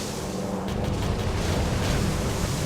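Enemy fire in the aerial combat game Air Conflicts: Pacific Carriers gives a loud, continuous rumbling roar of explosions, dense and booming throughout, with no talking.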